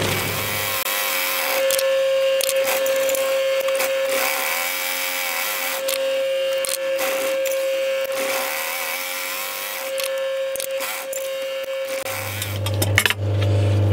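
Sewing machine stitching a waterproof outdoor cushion cover, running in a steady continuous whir for most of the stretch, with a brief pause and a heavier motor hum near the end.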